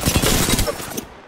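Rapid, dense gunfire from an Apex Legends firefight, a loud fusillade of overlapping shots that fills the first second before tapering off.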